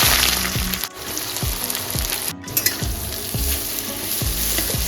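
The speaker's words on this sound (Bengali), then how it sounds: "এইবার আমি বেরেস্তাগুলো ভেজে নেব।" Sliced onions frying in hot refined oil over a high gas flame for beresta, a loud, busy sizzle with regular scraping sweeps of a spatula stirring through the pan, close up and without talking.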